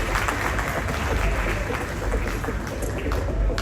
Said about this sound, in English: please help me appreciate him with another big round of applause